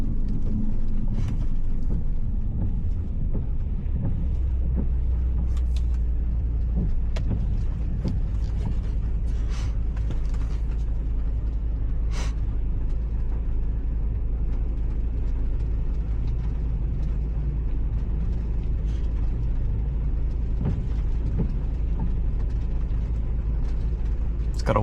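An Audi S6 with a V10 engine, held on the brakes at a traffic light for a brake boost, gives off a steady deep rumble throughout, loud and low, with a few faint clicks over it and no talking.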